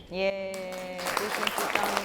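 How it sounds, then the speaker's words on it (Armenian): A studio audience at an Armenian comedy show breaks into applause, a dense wash of clapping that follows a brief spoken voice and continues steadily to the end. "Եվ ուզում եմ, որպեսզի մենք բոլորս շատ բարձր ծափահարենք իրենց միության համար։"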